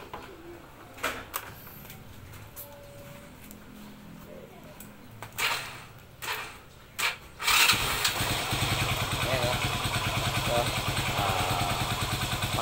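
A noisy, smoky motorcycle engine with a fault, grinding inside, sits quiet apart from scattered knocks and clicks, then catches at about two-thirds through and runs on in a steady, rough, close-up drone.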